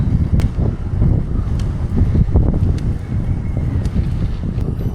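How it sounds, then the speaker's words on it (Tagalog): Strong wind buffets the microphone in a steady, loud roar with low rumbling gusts at a bike campsite, and a few faint clicks scattered throughout. "lakas ng hangin, no?"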